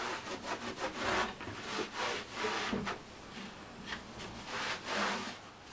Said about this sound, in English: Microfiber cloth.